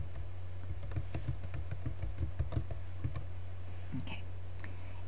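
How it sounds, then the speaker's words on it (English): Fingers tap quickly on a computer keyboard, a close burst of light clicking keystrokes over a low steady hum, then a few scattered taps and silence. "I'll just type in something like"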